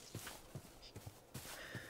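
Horses in Minecraft make quiet, rhythmic hoof clip-clops, several soft thuds spaced evenly, faint under a low background hum.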